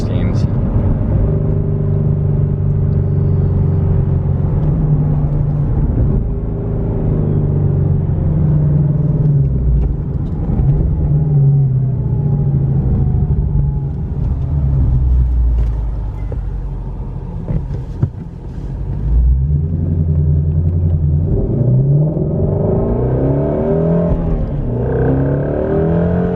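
A 2017 Ford Mustang Shelby GT350 engine droning loud and close while driving, its low rumble rising and falling through shifts and revs over a long stretch, with a voice talking now and then.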